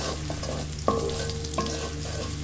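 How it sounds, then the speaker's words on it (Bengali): Onion and garlic fry in hot oil seasoned with a little salt, a steady crackling sizzle with a couple of scraping stirs and a faint clink, no one speaking. "তো আমি পেঁয়াজ আর রসুনটা দিয়ে দিলাম।"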